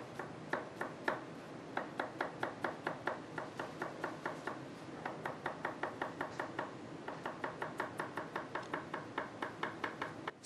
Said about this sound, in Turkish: Öncelikle soğanımızı doğrayacağız.